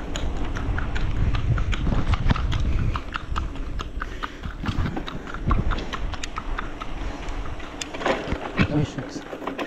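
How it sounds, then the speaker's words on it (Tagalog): A horse being ridden along a rural road in Burdeos, Polillo, Quezon province, its hooves clip-clopping in an uneven run of close, sharp knocks over steady road and outdoor noise, with voices talking. "Nakasakay ng kabayo dito."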